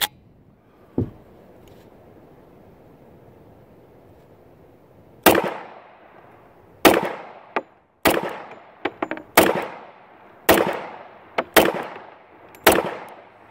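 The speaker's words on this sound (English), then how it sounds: "But it appears that the 70-year-old primers all fired." A firearm loaded with 70-year-old primers fires about eight sharp, loud cracks, one early and then a quick irregular string later, each ringing off briefly, with nobody speaking.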